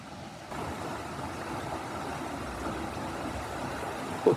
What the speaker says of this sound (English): Here comes the more water.